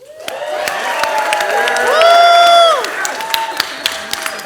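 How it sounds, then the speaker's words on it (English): A live audience cheers loudly for two Survivor winners, with mixed clapping, whoops and shouts swelling to a peak midway, then easing into scattered applause. "Now we have to give the loudest cheer, just like we did last year, to the 2 that brought us all here."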